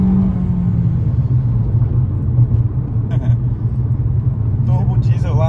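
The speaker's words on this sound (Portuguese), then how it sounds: "Ó, a retomada, ó. Tô pisando tudo." A Jeep Commander turbo diesel accelerates hard from a rolling start, its deep loud engine rumble droning steadily from inside the cabin while someone talks over it.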